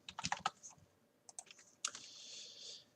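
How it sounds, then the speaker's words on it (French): A chapter is being typed on a computer keyboard in a quiet room, with fast bursts of light clicky keystrokes, a pause, then another flurry of close tapping, all fairly soft and without speech. "Et j'écris quelques lignes ou quelques paragraphes pour ce chapitre."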